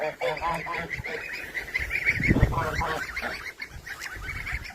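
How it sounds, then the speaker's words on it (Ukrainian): Several adult geese with goslings honk repeatedly at close range, overlapping calls forming a noisy, busy chorus with some faint background movement. "Все, гуси йдуть на моріжок, гусенята лишаються внизу."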